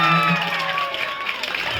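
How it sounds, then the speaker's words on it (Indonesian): Ninth-grade students clapping and cheering at a school farewell, a brief burst of crowd applause with shouting voices mixed in, fairly loud and busy. "Tepuk tangan untuk kalian semua."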